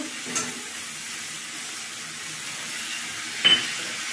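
Vegetables fry in a pan with a spoonful of ginger paste while cooking sukto in a village kitchen, a soft steady sizzle with a couple of brief louder stirring clatters near the start and end.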